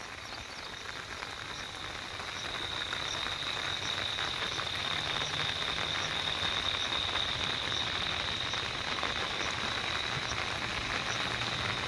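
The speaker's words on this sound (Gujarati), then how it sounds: "તો આવો કંઈક વરસાદ આવી રહેલો છે અમારા તાપી જિલ્લામાં" Rain falling in Tapi district during heavy monsoon weather, a steady dense patter filling the whole clip, with a high insect or frog drone running underneath and no talk.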